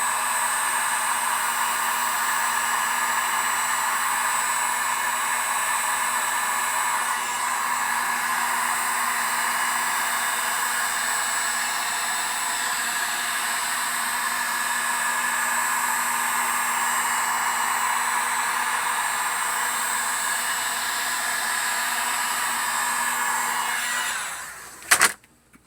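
A heating tool blows steadily on an iPad 4 to soften the screen's glue seal, a constant hissing airflow that runs alone for about 25 seconds before cutting off with a short clunk.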